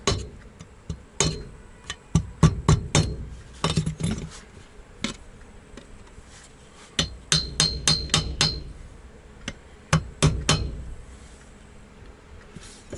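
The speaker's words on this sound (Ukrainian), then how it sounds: "Де мій ломоток? Шпоночку акуратно вибити." Sharp metallic hammer taps knocking out a seized metal key on a string trimmer under repair, some single, some in quick bursts of several strikes, close up over a faint background buzz.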